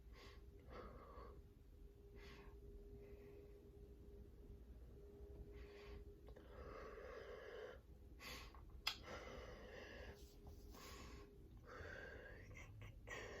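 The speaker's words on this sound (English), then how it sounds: "y'all hear me breathing? I'm breathing." A visually impaired dancer breathes heavily while stretching, with repeated faint breaths and snorts coming in irregular pulses over a quiet, steady background.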